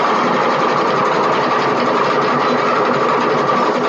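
A sewing machine runs at steady high speed, its rapid, even stitching whir loud and close, with no talking over it.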